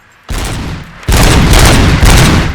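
Gunfire at a shooting gallery in RoboCop: Rogue City, loud bursts of shots that start after a brief quiet, ease briefly, then return as denser, sustained fire to the end.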